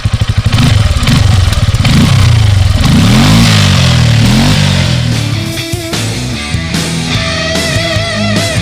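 Kymco Maxxer 450i quad from 2017, a 450 cc liquid-cooled fuel-injected single-cylinder, revs loudly and close with rising and falling throttle sweeps and clattering mechanical noise, no voices present.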